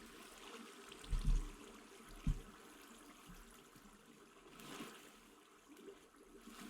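Flowing water in the Minecraft video game: a faint, continuous trickling stream with a couple of soft splashy bumps, quiet and without talk.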